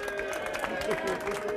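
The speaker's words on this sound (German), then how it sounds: "Applaus für einen Flensburg-Fan hier." A crowd at a handball fan talk show applauds a Flensburg fan, with moderate, continuous clapping under a talking voice.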